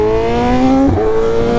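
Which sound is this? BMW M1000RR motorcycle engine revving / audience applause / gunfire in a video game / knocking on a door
BMW M1000RR motorcycle engine revving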